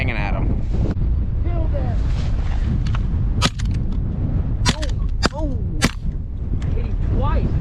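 Sharp shotgun blasts ring out in a windy blizzard during a snowy duck hunt, several sudden cracks over heavy roaring wind noise, with faint calls and voices in the background.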